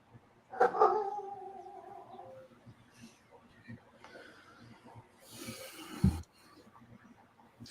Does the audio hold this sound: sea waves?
no